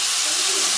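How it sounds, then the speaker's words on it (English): Chicken pieces sizzle steadily while browning in a pan for a curry, a dense, even frying hiss with no talking. "It's cooking really nicely, the chicken is browning."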